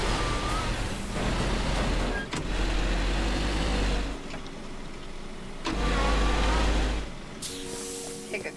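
A car drives in the game Teardown, its engine rumbling and surging in several drawn-out swells with brief pauses between, close and fairly loud, with a short mechanical whine at the end and no talk.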